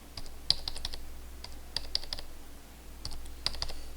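Quick bursts of typing on a computer keyboard while entering data in a Microsoft Excel spreadsheet, clusters of crisp key clicks separated by short pauses, close and fairly quiet, with no talking.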